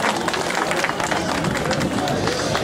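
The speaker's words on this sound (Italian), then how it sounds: "un grande applauso, se lo merita" Steady dense applause from a crowd at a goat fair award ceremony in Valgoglio, continuous clapping mixed with crowd babble throughout.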